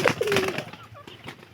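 A pigeon coos once, close and fairly quiet, a short throaty burble amid faint background noise.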